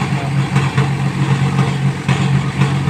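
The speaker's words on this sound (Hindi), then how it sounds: "टर्बो ट्रैक्टर है, बिल्कुल साफ चल रहा, धुआं पुआ कुछ नहीं है इसमें" A Mahindra turbo tractor engine idles steadily nearby in cold morning conditions, a continuous low throbbing rumble with slight pulsing and no voices.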